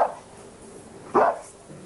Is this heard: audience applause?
no